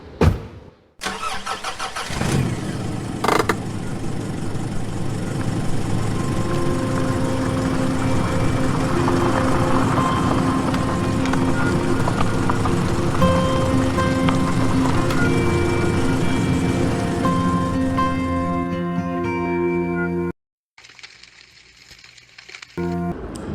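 Car engine in the horror video game No Rest, starting with a crank, then a steady loud running drone while driving at night in worsening weather, ending with an abrupt cut.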